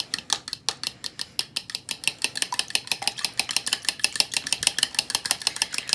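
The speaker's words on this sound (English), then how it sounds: "So as I'm whisking the eggs, I'm breaking up the egg yolk, making sure they're all combined." Eggs being whisked in a bowl for scrambled eggs, a fast steady run of close, crisp clicking taps from the whisk against the bowl, picking up speed toward the end, with no voices.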